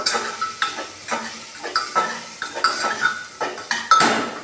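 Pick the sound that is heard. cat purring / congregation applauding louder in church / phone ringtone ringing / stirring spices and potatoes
stirring spices and potatoes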